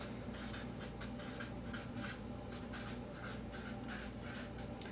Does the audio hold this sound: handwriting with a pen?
yes